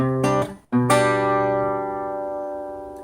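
A few acoustic guitar notes plucked in quick succession, then a chord left ringing out and slowly fading.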